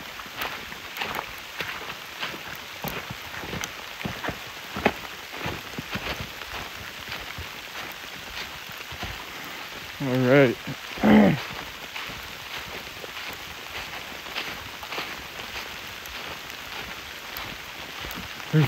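Hail and rain pelt down steadily in Adirondack woods near a lake, a dense, even crackle of drops and ice pellets with brief sharp knocks, and voices call out twice midway.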